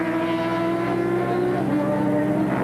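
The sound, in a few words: Honda race motorcycle entering the pits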